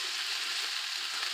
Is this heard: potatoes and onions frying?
yes